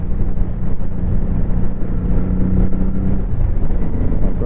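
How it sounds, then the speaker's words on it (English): A Honda Shadow Sabre 1100 motorcycle engine drones steadily while riding in fourth gear, a loud, rough low rumble mixed with wind buffeting and no speech. "man, what a great engine."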